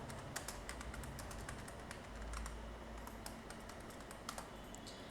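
Someone types C code on a computer keyboard, a quiet, rapid and irregular run of clicking keystrokes over a low background hum, with no speech.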